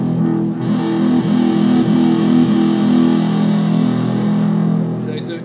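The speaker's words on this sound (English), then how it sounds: "as I strum more to the left or right, the distortion is actually getting higher and higher" A Kitara digital guitar is strummed in a continuous buzzing, heavily distorted chord with a thick, sustained tone, the grit building as the strumming goes on, ending with a couple of sharp high clicks.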